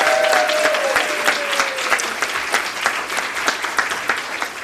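An audience at a community sponsorship awards night applauds Linda, steady clapping that gradually thins into scattered individual claps, with a brief tone at the start.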